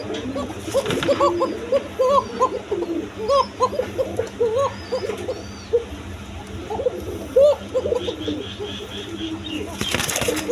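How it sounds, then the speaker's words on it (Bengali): Big-sized pigeons coo repeatedly up close, a run of soft rolling calls in quick succession with wing flutters and bird noise around them, and a clatter near the end. "একদম বিগ সাইজের কবুতর"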